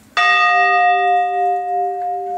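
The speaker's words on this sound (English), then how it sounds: "you better believe that Mrs. Herr would ring the farm bell." A farm bell at the historic Hans Herr house is struck once, ringing out loud and clear with a long, bright, sustained tone that slowly wavers as it fades.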